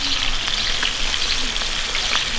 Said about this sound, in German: Ja, und jetzt wird das frittiert.